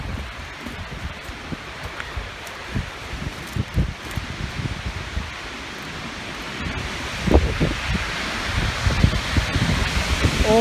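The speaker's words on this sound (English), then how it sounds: "Here comes another gust." Gusty storm wind roars and rustles through foliage outdoors, a steady broadband rush that swells louder around the last few seconds as another gust arrives.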